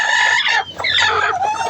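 A brooding hen makes loud, close, drawn-out clucking calls in two bursts separated by a brief pause.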